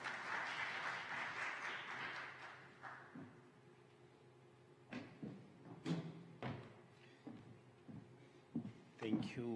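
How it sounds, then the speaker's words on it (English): Applause from the audience at a conference session in Tanzania, a dense patter of clapping in the first few seconds that fades into room noise with thumps and a voice speaking. "Round of applause"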